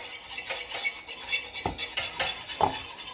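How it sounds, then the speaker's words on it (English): A whisk stirs a yogurt mixture in a bowl, quick rhythmic swishes and light clicks of wire against the bowl, close and moderately loud, with no voices. "really whisk it thoroughly to make sure it's really well mixed"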